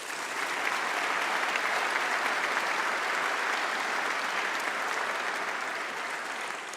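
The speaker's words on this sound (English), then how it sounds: "a huge round of applause to Acacia for that super speech that she made" Sustained applause from a large audience fills a hall at a university summer congregation ceremony, steady and dense throughout with no pauses or talk.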